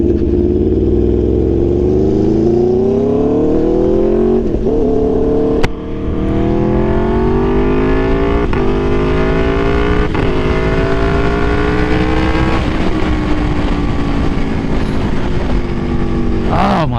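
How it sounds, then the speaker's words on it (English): A 2022 Aprilia Tuono V4 naked motorcycle engine revs loud and close, pitch climbing through repeated acceleration runs with brief dips at gear changes, steady throughout. "Love the way this bike sounds."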